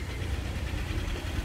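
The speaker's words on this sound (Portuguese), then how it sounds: "Tô falando do motor. E olha que é Toyota, hein?" A Toyota car engine running steadily, a continuous low rumble with a slight knocking texture, close and fairly loud, with no voices.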